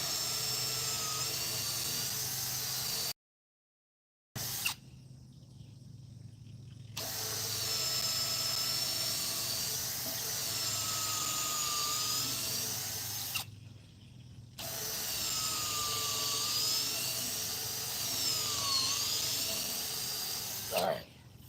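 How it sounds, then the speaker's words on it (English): Power drill boring a deep hole in the ground for a fence post, whining and grinding in long sustained bursts with brief pauses between, close and loud. "We'll drill a hole here."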